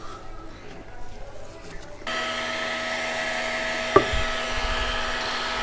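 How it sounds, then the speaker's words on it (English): A heat gun switches on partway through and blows with a steady, close whoosh while heating a part during chain and sprocket work on a Kawasaki ZXR250 motorcycle, with a single sharp knock midway. "Get it away from the rubber whilst you're heating it."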